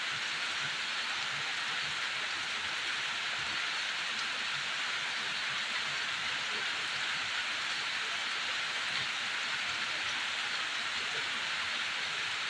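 Heavy rain falling in a steady, unbroken hiss, a loud and constant downpour with no pauses or voices.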